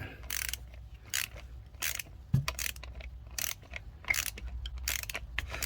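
Ratchet wrench working a 10mm bolt on the air suspension compressor of an Audi Q7, a series of short, crisp clicking bursts repeating at close range over a low background hum.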